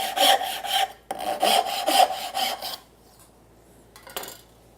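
A hand saw makes stop cuts in wood while shaping apron arches. Close, rhythmic rasping strokes continue for nearly three seconds, then stop, leaving near quiet and one faint knock.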